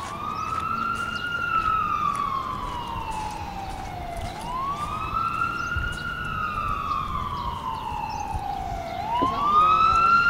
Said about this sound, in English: don't see fire trucks, just an ambulance